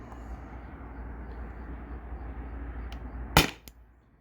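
A single sharp CO2 air pistol shot cracks out near the end, loud and close, after a few seconds of low background rumble.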